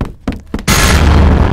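Two heavy, close thuds against a door in the horror game The Mimic, followed at once by a loud, sustained rumbling roar that fills the rest of the moment.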